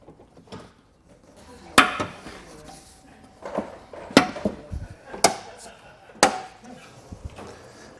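Plastic bumper fascia on a 2016 BMW X5 being pushed and snapped into place, with a series of sharp clacks and knocks spaced a second or so apart over quiet handling noise.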